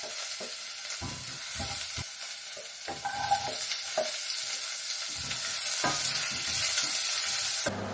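Chicken and onions sizzle in a pan, a steady frying hiss broken by repeated scraping stirs and clinks of a utensil close by.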